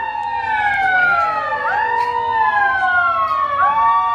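A mock-drill air-raid siren in Patna, Bihar, wails loud and unbroken, with several overlapping tones sweeping up and down in repeated cycles, alone and without talk.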